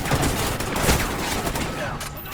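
Rapid automatic gunfire in Call of Duty: Ghosts, a steady rattle of shots over a busy battle soundscape, moderately loud, with players talking excitedly over it.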